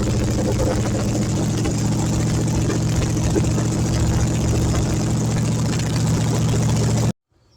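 An LS-swapped Chevrolet C10 pickup engine idles steadily and loudly up close, a continuous deep rumble that holds for about seven seconds before cutting off abruptly.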